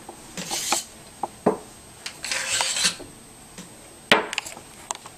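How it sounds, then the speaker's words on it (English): Metal parts of a lightsaber construction kit slide and scrape off an aluminum tube blade holder, giving several short rasping, clinking bursts with quiet gaps between them. "these parts literally just slide right off an aluminum tube."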